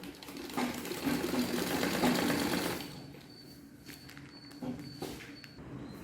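A sewing machine stitches a homemade grow bag made from waste material, running in a loud steady whir for a few seconds, then quieter with short bursts of stitching.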